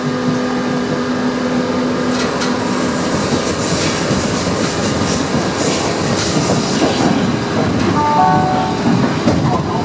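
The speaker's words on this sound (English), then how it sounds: "So then this is my U-Bahn train leaving." A Berlin U-Bahn train pulls away, a steady broadband rumble of wheels and motor with faint clickety-clack and a brief tonal whine, continuous and fairly close throughout.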